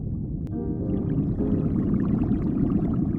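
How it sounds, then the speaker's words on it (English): A whale call sounds in the ocean as a brief tonal moan early on, rising over a constant, heavy underwater rumble that continues to the end. "whale,"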